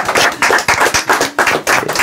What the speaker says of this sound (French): on peut tous l'applaudir très, très, très, très, très, très, très fort